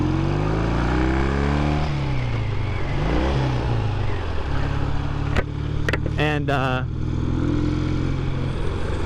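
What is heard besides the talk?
1965 Triton motorcycle engine while riding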